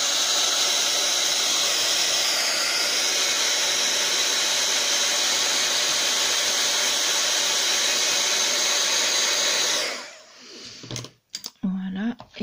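A hair dryer blows in a loud, steady whoosh over an art journal page for about ten seconds, then switches off, leaving a few faint clicks and handling noises.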